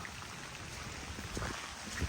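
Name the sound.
rain falling on a Jeep outside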